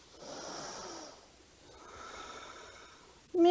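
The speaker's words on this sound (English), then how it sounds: "Inhaling as you're moving. Exhaling as you're moving." Breathing during a no-equipment strength workout: one long inhale followed by a slower exhale, soft and close, with a brief louder sound at the very end.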